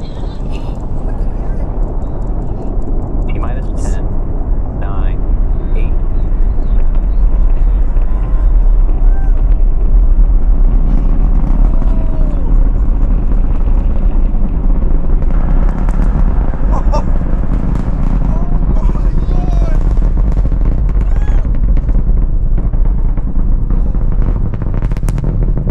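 A SpaceX Falcon Heavy rocket lifts off from Kennedy Space Center on the USSF-67 mission, sending a deep, continuous rumble with crackling bursts. People talk and exclaim over the roar the whole time.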